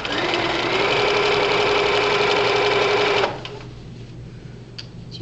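A sewing machine runs fast and evenly while stitching quilt binding, a loud rapid whir for about three seconds that then cuts off, leaving quiet handling noises.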